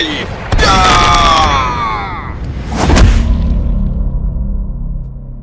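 In a 3D ghost-story audio drama, a sweeping, whooshing burst gives way to a loud blast from a switch-detonated explosive, followed by a low, lingering rumble.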